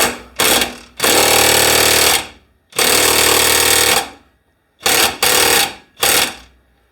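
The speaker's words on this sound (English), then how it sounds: "I'm going to take the 1/2-inch Mac gun" A Mac 1/2-inch impact gun hammering at a vise in a workshop, several loud close bursts of rapid rattling impacts, some long and some short, with brief silences between them.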